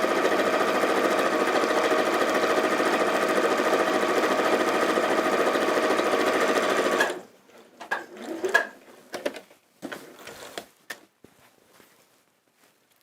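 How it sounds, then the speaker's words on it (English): A sewing machine stitches a quarter-inch seam through fabric with a steady, dense mechanical whir for about seven seconds. It then stops, leaving faint clicks and handling noises of fabric and clips. "just returning this back to the sewing machine and just sewing there"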